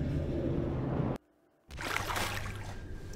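Water sound in the video game Watching Paint Dry, a Half-Life mod: a steady broadband rushing that cuts to near silence for half a second, then returns as loud flowing water.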